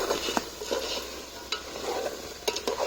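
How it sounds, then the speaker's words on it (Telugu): Chicken curry frying in oil with chilli powder added, with a continuous sizzle broken by periodic scraping stir strokes of a spoon in the pan, close and alone. "కూర మంచిగా ఫ్రై అయినాక కారం వేసుకున్నాం ముందుగా అలా కూరను మంచిగా నూనెలనే ఫ్రై చేయాలి"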